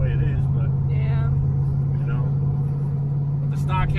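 A 1991 Foxbody Mustang on the move gives a constant low engine drone and road hum, close and unbroken, with brief indistinct voices rising over it now and then.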